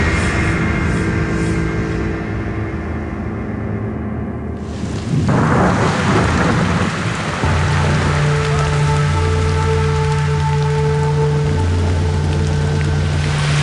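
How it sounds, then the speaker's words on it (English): Heavy rain pours across a remote island, a loud, dense hiss that surges midway, with low tonal rumbling and deep thunder rolling beneath the downpour. "Rain again."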